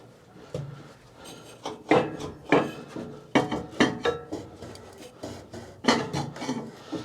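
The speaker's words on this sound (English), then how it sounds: "the blades are rubbing on something now" Mower deck blades on a Cub Cadet 1190H lawn tractor rubbing against an obstruction make uneven, repeated scraping and grinding bursts. They are fairly loud and close, with no voices.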